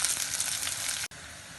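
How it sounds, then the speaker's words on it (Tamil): Onions and garlic fry in a pan for a chicken and brinjal curry, giving a steady, bright sizzle with a brief dropout near the end. "வெள்ளைப்பூடு போட்டு கிண்டி விடுவோம். வெங்காயம் வதங்கட்டும்."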